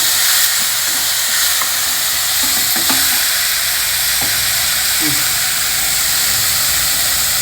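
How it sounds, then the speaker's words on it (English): Chopped vegetables stirred in a hot frying pan give a continuous hissing sizzle, with occasional soft scrapes and clicks of a utensil against the pan. "Stir everything together well."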